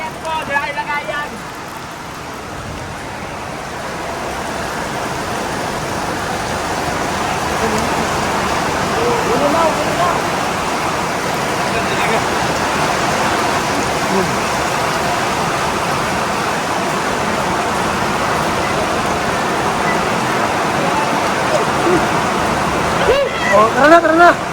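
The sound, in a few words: heavy rain pouring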